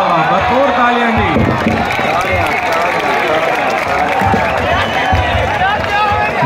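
A crowd at a mushaira poetry recital applauds and cheers steadily throughout, a dense wash of clapping and voices with talk mixed underneath.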